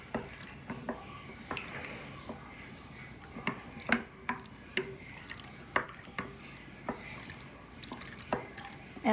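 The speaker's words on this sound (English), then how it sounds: "with those cutouts and the slotted spoon here of the wood, it makes it so that I can really get everything to kind of, it's almost like whisking it" Slotted wooden spoon stirring a half-and-half probiotic yogurt mixture, a soft continuous churn broken by repeated light clicks and scrapes against the container at an irregular rhythm, close and fairly quiet.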